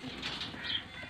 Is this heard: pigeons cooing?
yes